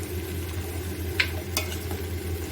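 A spoon stirs jackfruit aviyal in a pan after coconut oil is added, giving soft scraping and a faint sizzle under a steady low hum, with two brief clinks up close.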